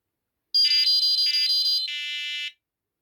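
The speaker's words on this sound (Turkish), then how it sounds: "Şimdi alarmı kapatalım." Prologic 4+1 carp fishing bite alarm sounding alone at close range: a piercing electronic tone, pulsing in rapid short beeps for over a second, then held steady before cutting off.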